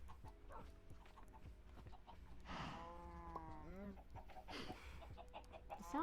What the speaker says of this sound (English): The sound of the chickens laying eggs.